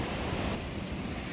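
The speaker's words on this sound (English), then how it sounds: "Well, we are at Solana Beach now." Ocean surf at Solana Beach in San Diego rushes as a steady, soft broadband wash mixed with wind noise on the microphone, faint and continuous with no voices.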